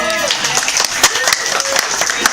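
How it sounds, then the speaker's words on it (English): Audience applause at a live underground arts show, a dense wash of clapping from a crowd, steady and fairly loud throughout. "Can I have a round of applause for the soup?"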